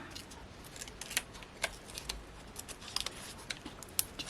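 Scissors snipping through a piece of craft paper in a card-making session, a series of faint, quick crisp cuts spread irregularly over a few seconds, close but quiet, with no talk.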